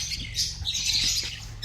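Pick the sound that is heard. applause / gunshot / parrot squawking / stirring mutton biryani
parrot squawking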